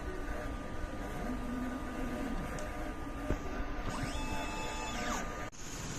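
An inkjet printer running a nozzle check, with faint mechanical whirring and sweeping carriage tones rising and falling over a steady low hum, plus a few soft clicks, quiet and close.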